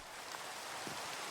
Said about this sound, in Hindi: बारिश भी चालू हो गई है।